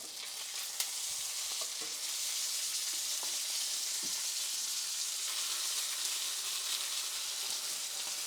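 New York strip steak searing in a scalding hot pan, a steady close hiss and crackle of sizzling fat that holds evenly throughout with a few faint pops and no talking.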